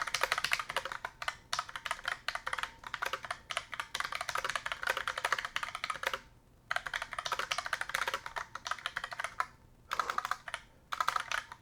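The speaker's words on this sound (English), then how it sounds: "that is a good old typing test" Fast, continuous clatter of a mechanical keyboard during a one-minute typing test, close and crisp, running in dense bursts with a couple of brief pauses, no talking.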